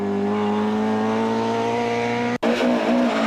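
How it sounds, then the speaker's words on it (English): A Mark II rally car charges flat out through a bend at a Carlow rally stage, its engine a loud steady drone with a brief cut and a quick recovery near the end. "Brian Carroll doesn't lift for this bend and charges out of trouble to bring his Mark II home in 7th"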